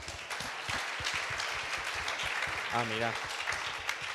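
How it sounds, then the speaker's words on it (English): Audience applause at a green jobs summit, steady crowd clapping throughout with a brief voice speaking over it near the end. "Applause,"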